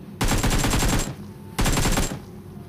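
Two bursts of rapid automatic gunfire from the PUBG Mobile battle-royale game on the Livik map, each about a second long with a pause between, loud and close with no talk.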